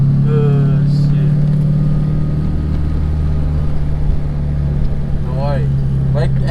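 A Honda Integra Type R DC2 with a K20 engine holds a loud, sustained high-rpm drone close by, while voices briefly speak over it.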